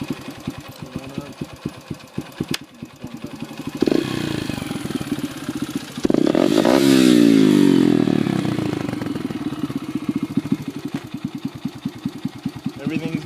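A 2002 Yamaha TT-R 125 dirt bike fitted with a Pro Circuit exhaust idles with rapid popping pulses, then revs up twice in loud, rising bursts before dropping back to a close, choppy idle.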